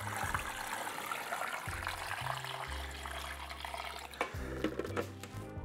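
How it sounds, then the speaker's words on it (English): Tap water pours into a pressure cooker pot filled with stock ingredients, a continuous splashing stream whose pitch shifts and rises as the vessel fills, close and fairly soft. "And then you just top it all off with water."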